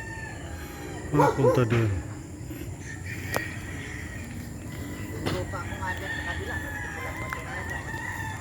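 Chickens and a rooster at a coop under a mango tree, a loud nearby crow followed by scattered clucking, with someone talking over the birds and steady outdoor background hum.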